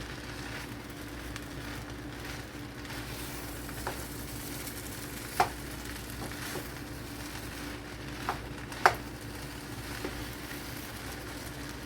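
Eggs sizzle and fry steadily in a hot pan for chicken fried rice, a constant crackling hiss with a few sharp clicks and taps of a utensil against the pan.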